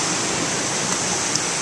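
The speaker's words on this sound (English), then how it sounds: "the water, this is just water leaking through" Water leaking through a roughly 4-foot-wide hydroelectric raceway makes a steady, broadband rushing hiss, even and unbroken like a small waterfall, close by with no voices.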